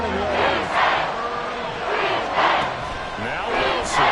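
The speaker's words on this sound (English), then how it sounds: "This crowd turning up the decibel level" A stadium crowd at a football game roars in loud, swelling surges, with chanting rising and falling in waves and commentators talking over it.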